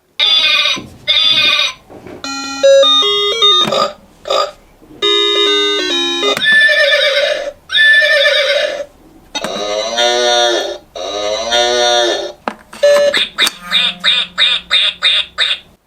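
A run of bright electronic animal noises from a toy educational cube, bleats and quacks, one after another with short gaps, ending in a quick series of chirpy beeps.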